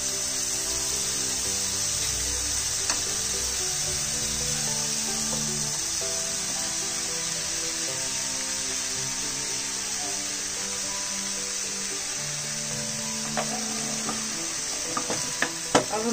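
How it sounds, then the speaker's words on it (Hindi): Veg fried rice with sauce sizzles steadily in a pan, and toward the end quick scraping and clinking come in as the rice is stir-fried and mixed. "अब हम इसको नाइसली मिक्स कर लेते हैं।"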